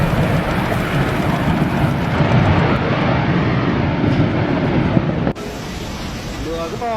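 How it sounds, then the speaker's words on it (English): A massive ice mountain collapses into the sea, caught on CCTV as a loud, continuous roaring rumble that holds for several seconds before cutting to another scene with a different background. "the moment a massive ice mountain suddenly collapsed into the sea"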